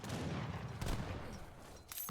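Cannon fire in an Age of Empires III match, heard as a dense, continuous rumble of overlapping gunfire and blasts that swells briefly near the middle of the two seconds, with no talk over it.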